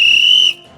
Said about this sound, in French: je vais devoir faire un coup de sifflet.